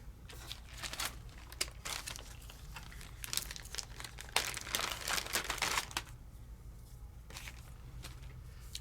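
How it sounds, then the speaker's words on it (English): Tape is pressed down on a paper craft project, making soft, close crinkling and rustling in irregular bursts that peak briefly before settling into quiet handling. "So let's just tape that down and call it done."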